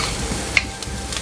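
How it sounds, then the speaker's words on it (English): Asafoetida and turmeric powder being sautéed with golden onions and garlic in a pan, a soft, even sizzle with a light clink or two from stirring, no voices. "Let's saute this well."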